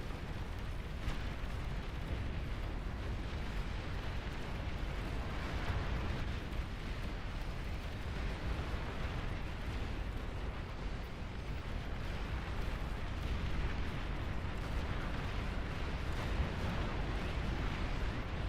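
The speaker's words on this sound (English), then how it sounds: "Missile launch detected." Missile launches and explosions in the strategy game Beyond All Reason form a dense, continuous barrage of booms and crackling blasts that rumbles on loudly with no letup.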